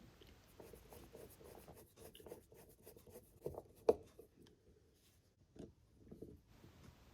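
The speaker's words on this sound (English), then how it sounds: "So now I can screw on the float chamber bodies and tighten the screws." A JIS screwdriver tightens screws on the float chamber bodies of a carburettor from a Millyard Kawasaki H2 1000 four-cylinder engine, giving faint, close scratchy turning and rubbing with a few small metallic clicks, quiet throughout.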